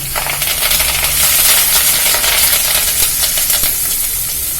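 Curry leaves dropped into hot sesame oil already holding fennel seeds and biryani powder for a brinjal gravy give a loud, steady, close crackling sizzle with bright hiss throughout and no talking.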